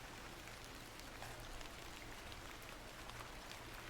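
Steady rain falls in the video game The Excavation of Hob's Barrow, a constant even hiss of drops on surfaces with no pauses or voices.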